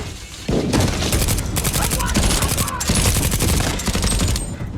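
Dense, rapid gunfire from a Better Call Saul shooting scene, loud and continuous bursts filling the whole stretch after a brief quieter opening.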